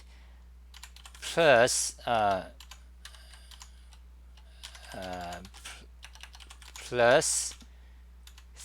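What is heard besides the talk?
typing code on a computer keyboard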